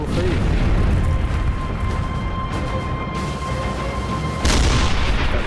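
Deep, continuous booming of heavy artillery fire, with rumbling blasts overlapping and a sharper burst near the end.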